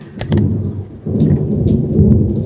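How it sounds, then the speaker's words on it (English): Rain pours steadily outside an open window, with sharp cracks of nearby thunder near the start over a continuous loud hiss of falling rain. "It's raining outside."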